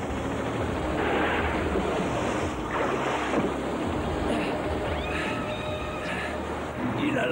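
Rushing cartoon waterfall, a steady loud broadband wash of falling water that fills the whole clip without a break.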